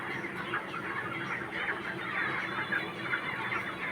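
Chickens cluck steadily up close as a child plays among them, a continuous busy flock sound without any talk.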